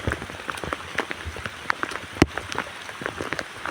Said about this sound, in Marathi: पाऊस बी जोरात लागाला